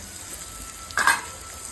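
Turmeric and a coriander-cumin paste fry in a pan, a low sizzle that flares into a short, brighter hiss and spatter midway before settling back.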